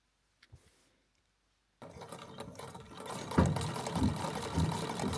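After a near-silent start with a few faint clicks, a sewing machine whirs up steadily and closely, rising in loudness as it attaches a quilt label and binding.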